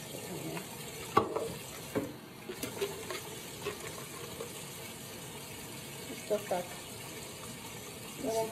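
Water runs from a tap into a cup at a sink, a steady faint splashing stream with a few louder clunks and knocks of handling scattered through, no speech heard.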